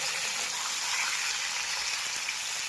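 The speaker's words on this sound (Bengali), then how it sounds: "ওর জন্য পোলট্রিটাই ভেজে নিচ্ছি আগে তেলে।" Pieces of poultry meat fry in hot oil in a home kitchen, giving a steady, even sizzle that hisses without a break, fairly close and moderately quiet, with no speech over it.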